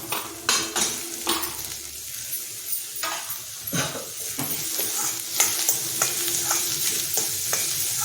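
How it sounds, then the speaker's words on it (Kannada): Capsicum with ginger garlic paste sizzles loudly in a hot pan, with repeated scraping and clanking stirs of a metal spatula against the pan over a constant frying hiss. "ಇದನ್ನ ನಿರಂತರವಾಗಿ ಫ್ರೈ ಮಾಡ್ಕೋಣ"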